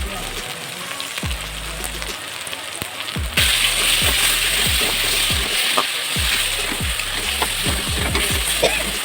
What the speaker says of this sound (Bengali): এইভাবে আমি দশ মিনিট ভালো করে নাড়াচাড়া করে নেব তারপরে দেখো হয়ে গেছে মশলা ভাজা